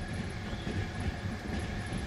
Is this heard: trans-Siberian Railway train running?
yes